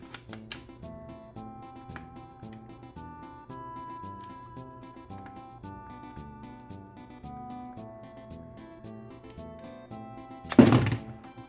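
An 8BitDo Ultimate controller snaps into its dock with a single short, sharp click near the end, heard over quiet background music.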